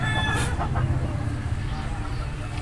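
A gamefowl rooster on a rooftop game farm gives a brief crow-like call over a steady rumbling background, followed by low clucking noise in a noisy outdoor setting.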